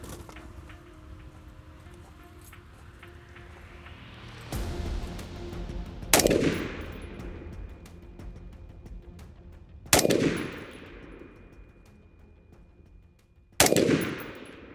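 Rifle shots are fired at a target in a five-round group, each crack sharp and loud with a long decaying echo, spaced several seconds apart over quiet outdoor ambience.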